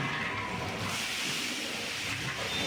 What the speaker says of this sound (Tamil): ஒரு கால் கிலோ சீரகம் ஒரு ஐம்பது கிராம் போட்டு தாளிச்சிக்கிட்டு இருக்காங்க